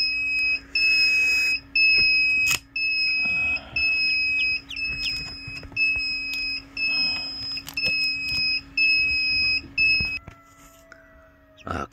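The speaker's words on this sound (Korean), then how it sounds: "경고음이 울려가지고 온도 올라갈 때까지 한 1분 동안 멈췄었어요" An egg incubator's warning alarm sounds in a repeating pattern of sharp, high electronic double-beeps, fairly close, with clicks, handling noise and a steady low hum from the machine between bursts.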